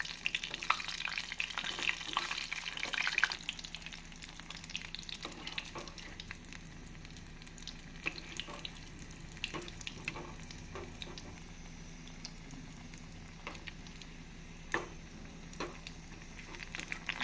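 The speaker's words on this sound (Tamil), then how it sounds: "நாம் மைதா மாவில் முக்கி பிரெட் கிரம்ஸில் பிரட்டி எடுத்து இதேபோல் கடாயில் போட்டுக்கொள்ள வேண்டும்." Breaded vegetable cutlets fry in oil in a kadai, giving a soft, steady sizzle with scattered small pops and crackles, close and fairly quiet. A brief louder burst comes as pieces go in.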